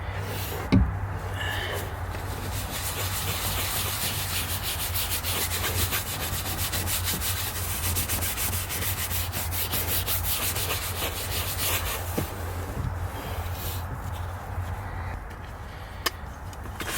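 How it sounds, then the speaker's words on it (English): A brush scrubs leather conditioner into the leather interior of a Ford F150 Platinum truck, making a steady, dense rubbing and scratching sound close by, continuous with a few brief knocks. "I apply it on the brush that I'm using for the interior, and then just working it into the leather."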